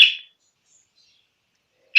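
A budgie gives two short, bright chirps, one at the very start and one at the end, with silence between; close and fairly loud, no talking.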